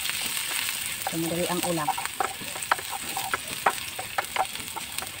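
Onion and a little ginger sautéing in a hot pan, a soft steady sizzle with scraping stirring clicks and a spoon tapping the pan, while a voice talks briefly over the cooking.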